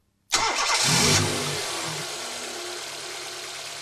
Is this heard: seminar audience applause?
no